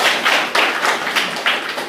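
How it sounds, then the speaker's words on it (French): Classroom applause congratulating a primary-school pupil: several separate claps and taps close by, uneven rather than a steady roar, with no voices. "Félicitations, on peut l'applaudir."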